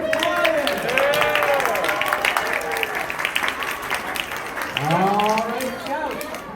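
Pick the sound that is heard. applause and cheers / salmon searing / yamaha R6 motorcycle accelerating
applause and cheers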